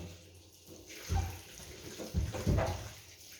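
Oranges are rinsed under running tap water, heard as soft, uneven splashing and gushing in a few short bursts as the fruit moves through the stream. The sound is fairly close and quiet, and there is no speech.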